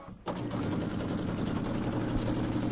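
A sewing machine stitches around the outside edge of a Halloween quilt, starting abruptly after a brief pause and then running as a steady, close, fast mechanical whir with no voices.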